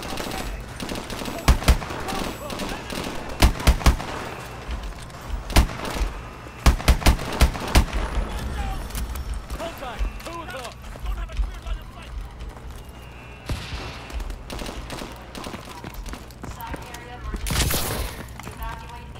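Gunfire from a single shotgun in the Call of Duty Advanced Warfare mission Fission, with sharp separate blasts spread through the clip over game ambience and a voice talking.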